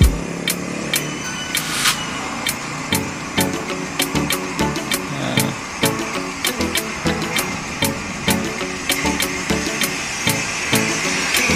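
A monorail train in Malaysia passes overhead, its wheels clacking in a steady, regular rhythm of sharp knocks over a continuous rolling rumble, moderately loud and sustained throughout.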